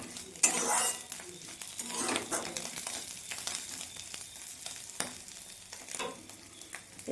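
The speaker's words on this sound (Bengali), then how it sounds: "তেজপাতা 5 ফোড়ন ভাজা হয়ে গেছে, আমি মাছের সাথে আবার একটু নেড়ে নিলাম।" Fish frying in a pan with bay leaves and five-spice tempering, stirred with a utensil: soft sizzling under repeated scraping and clinks of metal against the pan, a few sharper knocks, fairly quiet and close.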